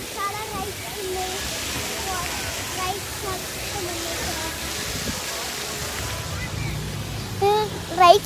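Steady rushing and splashing water fills a busy water park with rides at Kings Island in the USA, a continuous broad wash of spray with a few sharper voices near the end.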